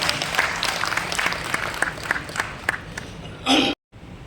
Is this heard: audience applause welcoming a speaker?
yes